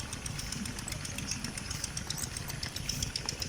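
A water pump engine used to irrigate a corn field in Pangasinan idles steadily nearby, a continuous low mechanical chug with a faint rattling knock and no voices.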